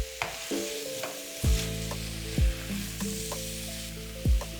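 Tomato beef curry cooks in a pot on medium heat, a steady sizzling hiss with a few soft stirring bumps, heard alongside sustained background music and no speech.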